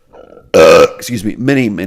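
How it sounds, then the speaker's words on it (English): A loud, close belch from a podcast host, long and resonant, after which the same voice starts speaking. "That belch, by the way, goes out for"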